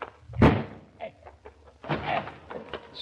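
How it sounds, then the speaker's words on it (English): Radio drama effect of a door being broken in: a sharp heavy slam or crash near the start, followed by smaller knocks and rattles, close and fairly loud, with no talk. "There's nothing for it but to bust in the door."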